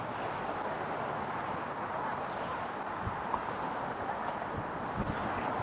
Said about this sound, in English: Ooh, it is windy.